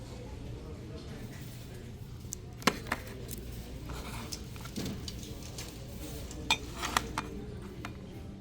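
Plates clink and knock while being handled in a thrift store, a few sharp ceramic taps scattered over a low background murmur.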